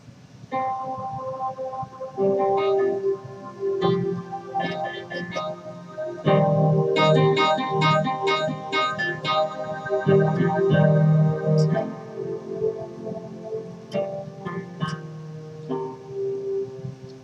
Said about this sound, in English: But when you play them together, the nylon guitar and metal pad, it sounds like this